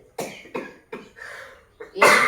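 A woman coughs in a rough series of four or five close, loud bursts with short pauses, ending in a harsher, stronger cough.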